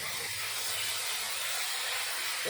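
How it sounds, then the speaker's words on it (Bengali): Fish heads frying in hot oil for a fish curry with drumstick pods, a dense, steady close-up sizzle and hiss that holds evenly throughout with no voices. "মাছের মাথাটাও ভেজে নেব"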